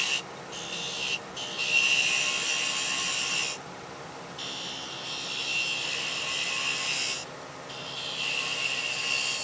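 A power tool cuts away wood to form a 1/8 inch tenon for a rocking box, a loud high whine in several sustained bursts separated by brief pauses as the cutter engages and releases.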